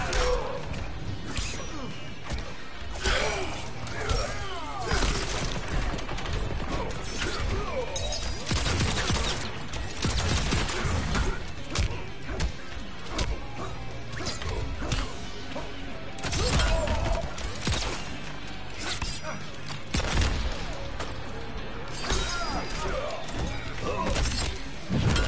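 Heavy blows, smashes and crashing impacts from a Mortal Kombat 11 fighting match, with a special crushing-blow hit; dense, loud and continuous, with sharp strikes and whooshes layered over game music.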